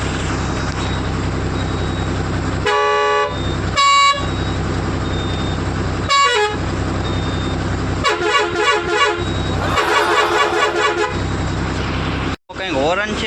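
A vehicle horn sounds in a series of loud, close blasts, some short toots and one longer wavering honk, over engine and cabin noise with voices in the background.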